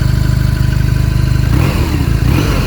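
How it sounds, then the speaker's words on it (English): A 2022 BMW R NineT Pure boxer-twin motorcycle idles with a loud, throbbing pulse, then is revved up sharply and roars louder before easing back, close and dominant throughout. "the whole bike moves when you rev it because it's the boxer twin"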